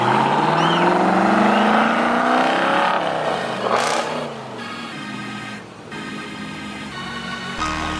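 A Dodge Hellcat revs hard at a Miami car meet, its loud engine climbing in pitch, then dropping back as crowd noise and other cars pass nearby.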